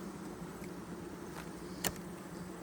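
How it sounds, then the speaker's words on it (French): Honeybees buzz during a hive inspection, a low steady drone of many insects close by, quiet but continuous, with a brief louder knock near the end. "Mais les abeilles, comme vous voyez tous, ils sont très, très gentils."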